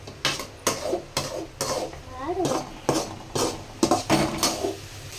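Onions and curry leaves sautéed in a pan for an egg masala gravy, with repeated sharp scraping knocks of a utensil against the pan in an uneven rhythm and a low hum underneath.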